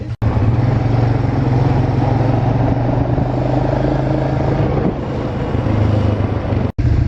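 An ATV engine idles and runs steadily on a jungle ride excursion in Cozumel, Mexico, a loud, constant low motor drone close to the microphone with some wind buffeting and no talk.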